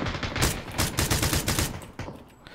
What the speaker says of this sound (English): My favorite part is shooting Jim